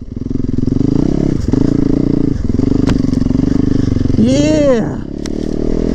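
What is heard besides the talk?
off-road motorcycle riding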